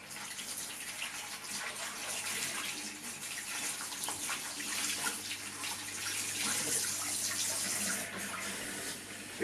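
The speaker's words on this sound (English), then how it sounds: "Leave the hot water running." Hot water runs steadily from a tap into a sink or basin during car-interior cleaning, a continuous close hiss and splash at an even level with no speech.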